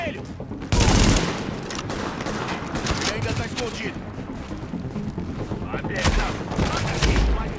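Gunfire in The Division video game, loud bursts of rapid automatic shots and scattered single cracks across the whole stretch, with someone talking over the shooting.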